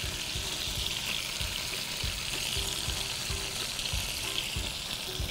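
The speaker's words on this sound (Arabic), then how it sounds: "قلنا هنفضل نقلب فيه من غير ما نعمل أي حاجة لحد ما إحنا عايزين ياخد معانا لون أو يتحمر" Chicken thighs frying in a pan, giving a loud, steady sizzle with no pauses and soft stirring scrapes.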